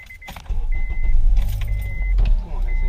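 A car engine is cranked repeatedly without catching, a steady grinding churn under faint high whine, close up, with keys jangling and people talking nearby.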